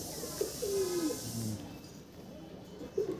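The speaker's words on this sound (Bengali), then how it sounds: "এগুলো কি বাড়িরই পায়রা তোমার?" Pigeons kept in a loft, some flown in tournaments, coo near and clearly: a few drawn-out throaty notes in the first half, then a short coo near the end, over quiet background murmur.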